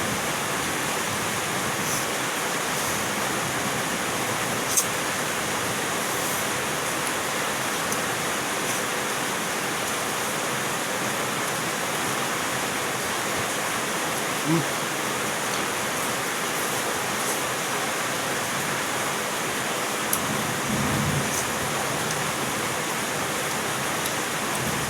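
Steady rain falls throughout, an even, continuous hiss with no pauses and no talking.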